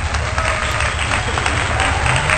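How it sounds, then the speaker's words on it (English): Applause sound effect added after a master's graduation announcement, a steady dense wash of clapping and crowd noise that stays loud and even throughout the short stretch. "We'll insert applause there."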